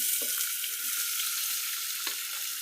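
Onions, green chillies and curry leaves fry in hot oil for mutton chana dal curry, giving a steady, even hiss that runs the whole time, with a few soft clicks on top and no talking.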